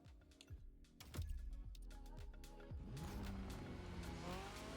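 A Peugeot rally car in the racing video game The Crew Motorfest revs and accelerates with a rising engine whine and tire squeal, loud and continuous, with game sound effects and no talking.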